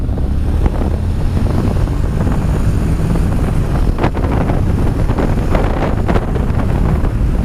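Heavy wind buffets the microphone of a rider on a Honda NM4 Vultus motorcycle at speed, a loud continuous roar with gusty thumps and a low engine rumble beneath.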